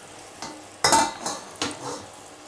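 Lemon pasta sauce with a little cashew worked in gets a brief stir in a pot, a few distinct scraping swishes close by in a quiet kitchen with no talking.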